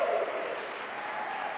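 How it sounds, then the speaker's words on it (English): An audience at a late-night talk show cheering and applauding, a dense, continuous wash of clapping that swells briefly at the start and then holds steady. "we've got some people cheering."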